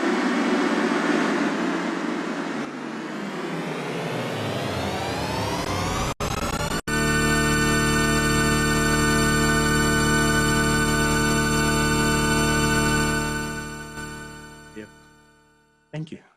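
A loud synthesized drone of stacked tones, a Web Audio recreation of the Deep Note, rises steadily in pitch, then settles into a sustained shimmering chord that fades out near the end.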